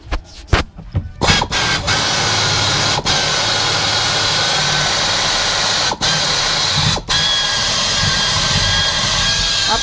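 A power drill driving a self-drilling screw into a Space Wagon cab runs almost continuously at close range, with a few short stutters and brief cutouts at the start, loud and steady.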